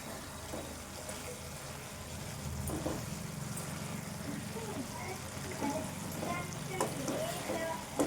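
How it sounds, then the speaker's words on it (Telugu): A spoon stirring a curry of cluster beans and eggs in a pan, with a steady sizzle and soft scraping strokes running throughout, and a voice talking over the cooking. "ఇది కూడా కొద్దిసేపు కలుపుకోవాలి"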